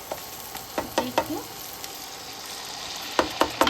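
Spice paste fries in oil in a pan for an aloo paneer dish. A soft, close sizzle runs under sharp spatula clacks and scrapes that come in bunches, and one word is spoken briefly.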